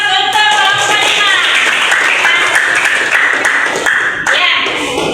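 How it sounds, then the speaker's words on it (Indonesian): A classroom of students claps and cheers for a group, a dense, bright patter of many hands mixed with young voices, loud and close throughout. "Berikan aplaus untuk kelompok 5."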